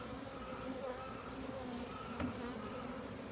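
Honeybees hum in a dense, steady buzz at an opened hive's brood chamber, many insects droning close together at low volume.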